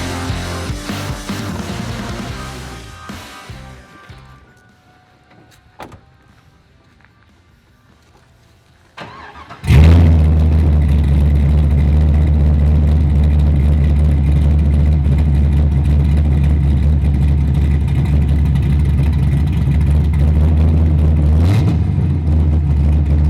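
A Pontiac Trans Am engine with a performance cam idles quietly, goes nearly silent, then starts with a burst and settles into a loud, loping, rumbling idle that continues steadily.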